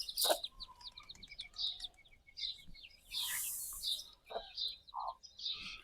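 Desi free-range hens clucking and calling on an Indian poultry farm, a steady chorus of short clucks and chirps near and far, with a brief louder squawk in the middle.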